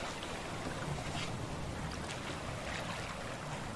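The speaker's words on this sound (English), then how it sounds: "Waterfall." A waterfall in the video game A Way Out gives a steady, broad rushing roar of water that holds constant throughout, with no voices over it.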